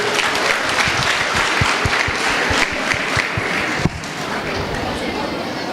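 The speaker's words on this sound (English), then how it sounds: "Big round of applause, please." Loud audience applause at a college function in Gulbarga, dense clapping with some distinct louder claps standing out, continuing steadily with a faint murmur of voices underneath.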